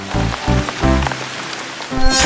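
Light drizzle pattering on a surface outdoors in Cabanatuan, steady soft patter with a few louder drips or knocks spaced through, no voices.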